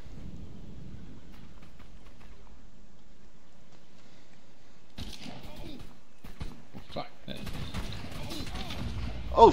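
Booming ship cannon fire during a naval battle in Ark Survival Evolved: after a quiet stretch, a series of loud, irregular blasts erupts, with voices talking faintly underneath.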